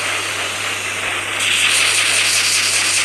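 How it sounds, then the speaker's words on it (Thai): An airplane flies in the video game Dude Theft Wars, giving a continuous, loud jet-engine roar with a hissing edge that swells slightly partway through. "ซึ่งเครื่องบินก็ถือว่าขับได้"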